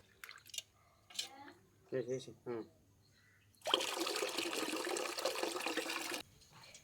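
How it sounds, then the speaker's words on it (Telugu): Water sloshes and splashes as lentils are washed in a bowl for a few seconds, after some brief scattered clinks and knocks. "వేరే గిన్నెలో వాటర్ వేసుకొని కడుక్కున్న పప్పుని నేను దేవుకుంటున్నానండి"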